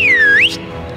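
A single sharp signal whistle from a person rises in a quick, loud, piercing sweep and then cuts off, leaving a low background hum.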